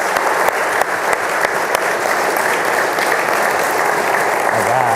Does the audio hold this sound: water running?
no